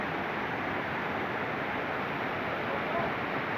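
A stream flowing along a bank near a wild bee nest gives a continuous, even rushing wash of water that fills the whole stretch without letup.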